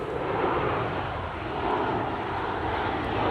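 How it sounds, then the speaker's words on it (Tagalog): A loud, broad roar of a jet airplane passing low overhead near an airport, steady and droning throughout with no voices. "may parating na naman aeroplano."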